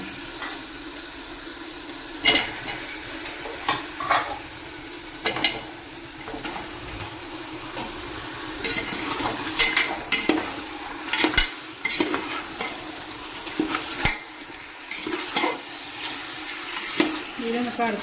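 Chicken pieces frying in a pan, a continuous sizzle broken by repeated clatters of a stirring spoon against the pan, with no talk over it.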